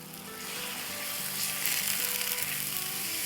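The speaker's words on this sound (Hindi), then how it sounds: "अब टोमेटो प्यूरी के साथ भूनेंगे।" Goat kidney fries with tomato puree in a pan, producing a dense, close, continuous sizzle that grows slightly louder partway through, with faint stirring underneath and no speech.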